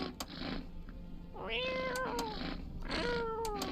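Two plaintive meows from a video-game cat being petted come over a low background bed, each rising then falling, spaced a little over a second apart, with faint clicks between them.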